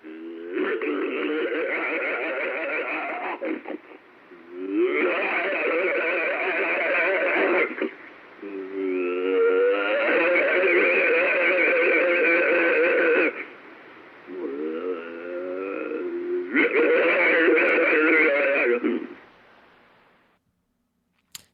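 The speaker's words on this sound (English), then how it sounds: "if you are unfamiliar with the Sierra sounds, my goodness, I will just play a quick little thingy here for you" Alleged Bigfoot vocalizations from the Sierra sounds recordings, played back as a lo-fi, radio-like track: several long bursts of wavering, moaning and chattering calls with short pauses between them, heard with no talk over them.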